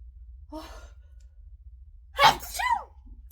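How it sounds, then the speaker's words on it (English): A single loud sneeze bursts out after a faint breathy intake, close to the listener, with quiet room hum underneath. "Oh, and I've got the sneezes."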